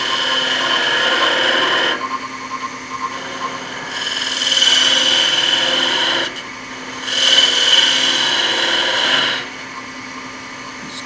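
Wood turned on a spinning lathe while a skew chisel cuts into a gap in the blank, likely a honey dipper, gives a steady rasping hiss with two louder, brighter scraping passes, close and with no talk.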